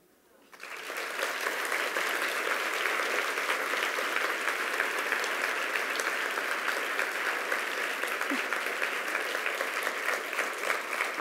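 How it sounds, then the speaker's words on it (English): A large audience at an awards ceremony bursts into sustained applause after a keynote thank-you, a dense wash of many hands clapping that starts abruptly and holds steady and loud throughout. "I'm not standing up here to make you keep clapping."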